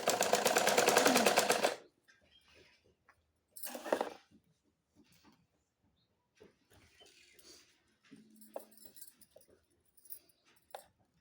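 A sewing machine runs in one loud, steady burst at the start while stitching lace onto a plain blouse, then falls silent, leaving only faint handling clicks and light rustling.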